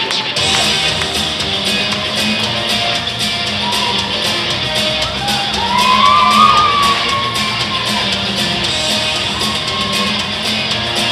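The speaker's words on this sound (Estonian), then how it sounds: "Teeme eesriidemehele aplausi!" Theatre audience at a youth talent show cheering and clapping for the curtain man, a dense sustained crowd roar with whoops and shouts that swells slightly midway, alongside a faint sliding tone.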